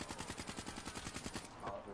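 Rapid repeated gunfire from the Bloodhound pistol in the Call of Duty zombies map Shadows of Evil, a steady run of sharp close shots in quick rhythm through most of the moment before easing off.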